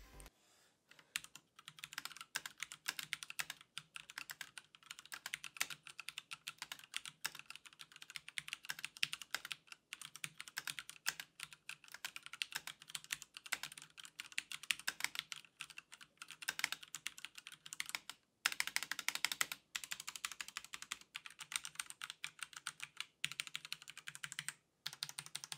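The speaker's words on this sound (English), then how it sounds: "here's just a quick sound test of how the Midnight's Cherry MX rate switches sound" Crisp, clicky Cherry MX mechanical keys with PBT keycaps on a Ducky One 2 Midnight keyboard are typed in rapid, uneven bursts with brief pauses, close and fairly quiet.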